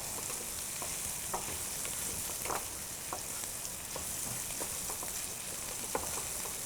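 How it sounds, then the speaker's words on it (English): Rice kernels for a roasted fall vegetable risotto fry in oil while being stirred, producing a soft continuous sizzle punctuated by repeated light scraping clicks of the spoon. "So we're going to mix it around just so that the rice kernels all get coated in oil."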